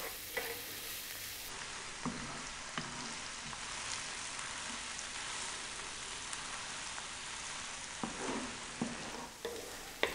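Garlic and dried red chili fry in a pan over medium heat, giving a constant dense sizzle and crackle with a few sharper pops and stirring scrapes.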